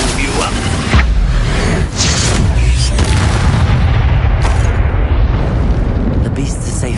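Confringo fire spell explosion in Hogwarts Legacy, heard as loud booming bursts and fiery rumble within a dense, continuous battle soundscape, with spell casts and voices in the mix.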